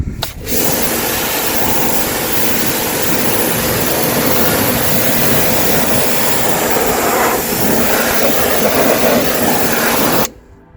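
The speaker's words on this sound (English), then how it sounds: "Get the worst of it off to start with a jet wash." A pressure washer sprays a car hard and continuously for about ten seconds, a loud hissing blast of water that cuts off abruptly at the end.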